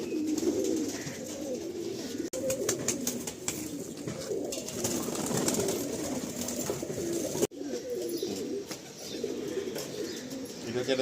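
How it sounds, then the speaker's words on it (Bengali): Jiria pigeons coo steadily in a loft, with soft, overlapping throaty calls running throughout and a couple of brief cuts. "এটা হচ্ছে একটা জিরিয়া পায়রা,"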